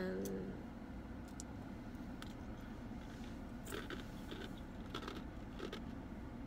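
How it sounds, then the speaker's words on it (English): Ice being chewed by a person one month after weight loss surgery, with crunchy bites recurring close to the mic over steady low background noise. "alright, chewing on ice."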